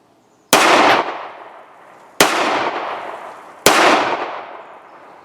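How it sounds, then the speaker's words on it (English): Three sharp, loud pistol shots from an Astra 600, spaced more than a second apart, each with a long fading echo, heard at close range. "here's an old clip of Jay shooting this pistol, just so you know. Astra 600."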